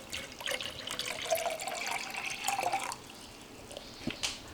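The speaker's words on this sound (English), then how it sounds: "We've got the 500 mils of water. So I'm just going to go ahead and pour it in." Water pours steadily from a container into a Jetboil camping stove pot, a close splashing rush for about three seconds that then tapers to a few faint drips.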